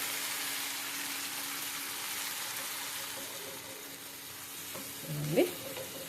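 Ridge gourd and broad beans stir-fry in a pan with a soft, steady sizzle heard close up, ending with a brief scraping stir.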